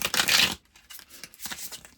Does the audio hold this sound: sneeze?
no